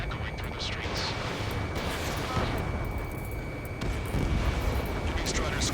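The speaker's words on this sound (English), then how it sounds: "Gunfire and the roar of jets echoing through the streets." Gunfire crackles and jet engines roar through city streets under martial law in the Ace Combat 7 flight game, a dense continuous rumble of bursts and explosions swelling in places, with a voice speaking over it.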